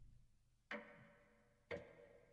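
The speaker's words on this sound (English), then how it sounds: "I don't like this clock ticking sound." Two sharp, evenly spaced clock ticks about a second apart sound in the cooking video game Cooking Companions, each with a short ringing tail over a faint low background, quiet and alone.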